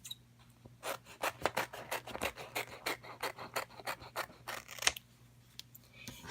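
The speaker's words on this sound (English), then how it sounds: "we're going to cut along that line right there so that I'm not wasting material here" Scissors cut craft material along a marked line, giving a steady run of crisp snipping strokes, close and fairly quiet, with no talking.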